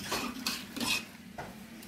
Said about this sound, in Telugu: అలా ముద్దపప్పు యాడ్ చేసినాక ఒకసారి మిక్స్ చేసుకోవాలి